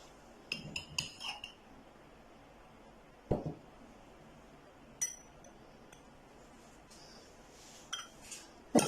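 Spoon clinking against a glass while lemon juice and honey are mixed for a summer drink, a few scattered light taps and chimes with quiet gaps between them, close and faint.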